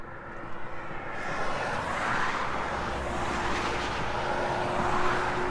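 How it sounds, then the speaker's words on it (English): Steady traffic noise rumbles from a road nearby, with a broad wash of passing vehicles swelling after the first second and holding loud and continuous with no talk over it. "traffic."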